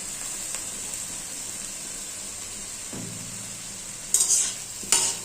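Vegetables frying in a pan give a steady, even sizzle, joined near the end by a couple of short stirring scrapes. No voices.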